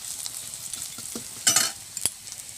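Fish and onions frying in a pan, with soft sizzling and a few sharp stirring scrapes and clatters against the pan, close up and with no talking.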